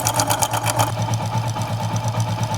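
A Hero Splendor Pro motorcycle engine idles with a steady, rapid mechanical ticking and rattle from a worn timing chain, heard close up and continuous with no talk.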